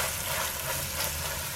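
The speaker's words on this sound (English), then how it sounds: "Hear that nice sizzle." Chuck roast sears in an oiled pan, a steady close hiss of sizzling fat with no talk over it.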